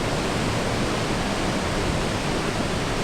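Water rushes over the big weir on the River Avon, a loud, dense, unbroken roar that holds constant throughout.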